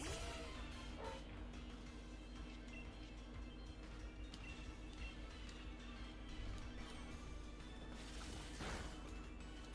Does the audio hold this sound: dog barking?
yes